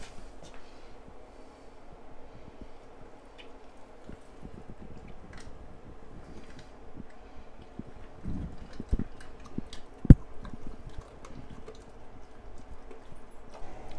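A puppy chewing its dinner: soft, irregular wet crunches and clicks close by, faint overall with a few sharper bites and one sudden loud knock near the end.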